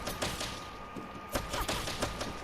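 Rusted weapons strike and break wooden boxes in Dragon's Dogma, producing a series of sharp thumping impacts with crunchy splintering bursts at an irregular rhythm over a continuous game background.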